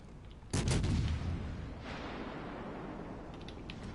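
Naval guns on a warship in a naval combat video game fire on the battleship California with a sudden heavy boom, followed by a rumbling tail and a second softer report fading into low background noise.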